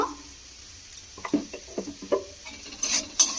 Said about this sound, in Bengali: খুব ভালো করে ভেজে নেব, মানে মিশিয়ে নেব আগে